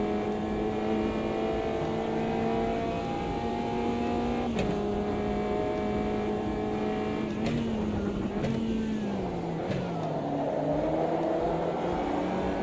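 Race car engine in a sim racing video game, throttle feathered so the pitch wavers and dips steadily, with a few sharp clicks and a brief rise in revs near the end, heard alone at moderate level.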